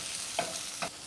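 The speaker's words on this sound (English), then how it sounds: "Give it a stir." A chicken and vegetable stir fry is stirred in a pan, giving two short scraping strokes over a soft, steady background hiss with no talking.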